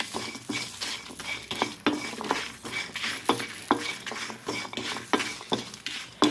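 Coconut and four dried red chillies are dry-roasted without oil in a pan over medium heat for Chettinad mutton kuzhambu, with steady, repeated scraping and stirring of a spatula against the metal pan, close and fairly quiet.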